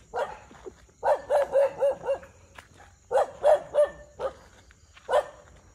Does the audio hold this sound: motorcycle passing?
no